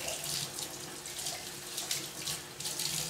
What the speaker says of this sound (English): This piece here, rinse it out.